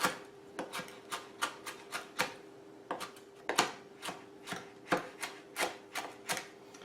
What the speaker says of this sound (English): Then we're going to take this and actually mince it into smaller pieces, just a coarse chop